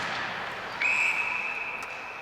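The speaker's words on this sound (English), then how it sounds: "And that one whistled down." A referee's whistle at a girls' high school ice hockey game, one sharp sustained blast cutting through the arena crowd noise and lasting about a second.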